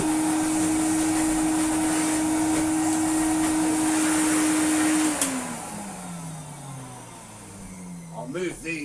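A Eureka Forbes Euroclean 2000 vacuum cleaner with a floor brush runs with a steady whine, then switches off and winds down, its motor tone falling away, before a few clicks and handling noises; a voice talks over it.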